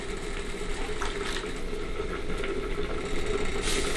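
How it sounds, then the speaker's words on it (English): Juice poured over a roasting turkey in the pan, a steady wet trickling and splashing that runs continuously and swells slightly near the end. "we're going to cover it up with a little bit of juice"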